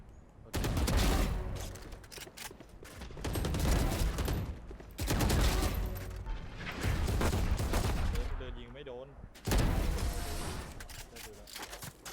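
Bursts of gunfire in a Valorant match come in several loud volleys separated by brief lulls, with players talking over the action.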